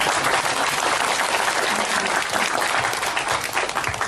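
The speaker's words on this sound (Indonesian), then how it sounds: "Ini harus tepuk tangan yang keras." Loud applause from a mosque audience during a religious lecture, thick sustained clapping that stays strong from start to finish with little else audible.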